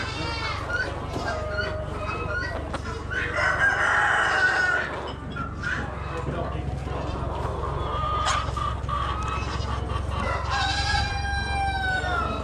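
Busy chatter at an Amish animal auction: chickens clucking with a rooster crowing, Muscovy ducks and bleating animals in the mix, steady and close throughout.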